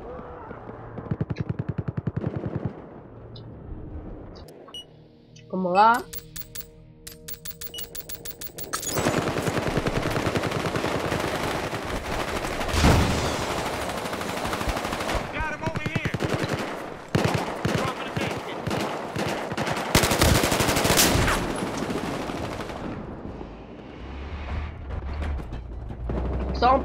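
Rapid bursts of gunfire and explosions from Battlefield Hardline multiplayer rattle almost continuously, loud and close, with a voice speaking briefly among the shots.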